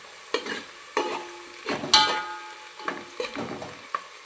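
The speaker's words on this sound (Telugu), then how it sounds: "ఇదైతే బ్రౌన్ ఆనియన్స్ ఏగుతున్నాయి" Onions frying in oil for chicken dum biryani, with soft sizzling punctuated by several distinct stirring scrapes of a spoon in the pan, close and fairly quiet.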